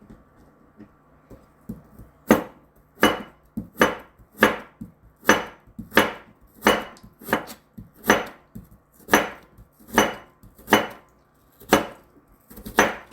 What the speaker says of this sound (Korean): 채 썰듯이 썰어서 준비해 주시고요